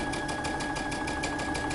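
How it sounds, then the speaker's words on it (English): A sewing machine stitches a dress drawstring in one steady, close, loud run of fast rhythmic needle strokes over a constant motor whir. "we're going to sew our drawstring together"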